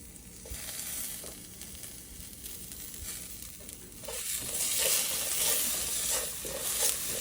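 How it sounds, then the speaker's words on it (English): Potato sabzi with curry leaves frying in a hot pan, a continuous sizzle with bursts of spattering that grow louder and brighter in the second half as the mixture is stirred. "You can hear the sizzle."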